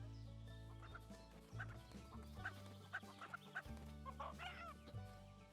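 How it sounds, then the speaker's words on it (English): Chicken clucking in a video game demo, a string of short, fairly faint clucks and squawks over a steady game music bed, with no voices. "Did I just catch a chicken?"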